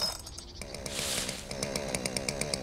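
A chainsaw in the video game Dinosaur Fossil Hunter cuts a dinosaur fossil into pieces, its motor buzzing hard with a rapid stuttering rattle that briefly swells in the middle.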